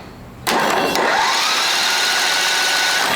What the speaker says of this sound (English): let's just spin it a little bit and clean it out